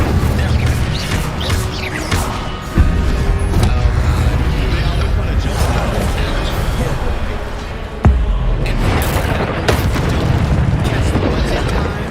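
In the video game Hogwarts Legacy, the Incendio fire spell goes off in loud, rumbling booms and bursts amid dense game effects, with a voice speaking over the action.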